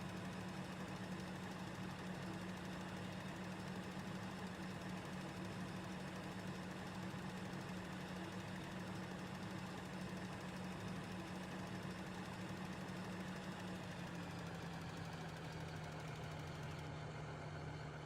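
A tractor engine runs steadily in Farming Simulator 2013, a continuous low droning hum with a faint mechanical rattle, holding an even level throughout with no talking.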